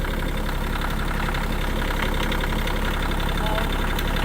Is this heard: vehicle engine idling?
yes